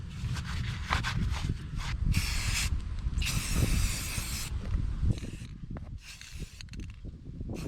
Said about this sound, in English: when I do spray, I'm going to attempt to not get too much Rust-Oleum on the bolts